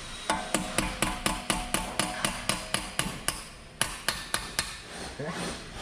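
A hammer strikes a metal punch against a rear-end part of a Genesis GV80 in a rapid, even series of sharp metallic blows, close and loud, pausing once before a few more hits.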